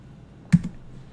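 A single short keypress on a computer keyboard, a soft close click with a faint follow-up tap, in a quiet room.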